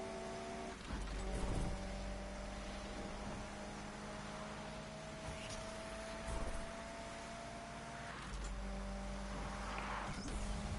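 Steady engine drone from a street race in Need for Speed Unbound, a continuous car roar with tonal whine that swells and dips through the run, holding fairly loud with no break.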